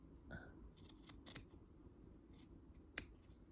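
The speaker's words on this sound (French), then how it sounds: "Il faut couper en diagonale jusqu'à l'angle sans couper la valeur de couture ici et sans couper le fil de la piqûre" Scissors cutting fabric diagonally into a corner for a tailored pocket, giving a few quiet, brief snips with soft handling noise between them.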